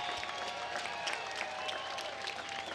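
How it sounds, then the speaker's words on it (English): Crowd applause at a boxing arena after an 8-round fight, steady dense clapping rising from a packed audience with a faint tonal hum underneath, no clear voices on top. "let's give these two warriors a big round of applause"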